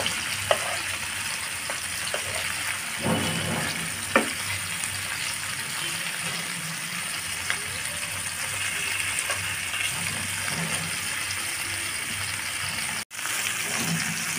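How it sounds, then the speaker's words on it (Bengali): Fish sizzling lightly in hot oil in a pan, a steady soft crackle and hiss with occasional small pops, continuous and close. "মাছগুলি আমি হালকা এপিস ওপিস করে শুধু ভেজে তুলে নেব।"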